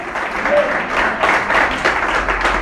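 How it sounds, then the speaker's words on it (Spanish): Church congregation applauding during a Spanish-language sermon, a steady wash of many hands clapping throughout, with a voice speaking over it. "Si vas a aplaudir, aplaude en esta mañana en el nombre de Jesús"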